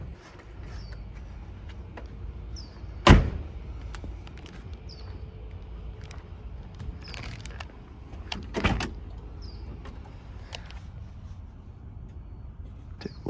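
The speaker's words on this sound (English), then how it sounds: "Windows operate with no problem. Super smooth, even these side windows." Electric side windows of a 1966 Chevrolet Corvette coupe run with a faint, smooth motor whir, broken by two sharp thuds as the glass seats, with quiet ambient noise throughout.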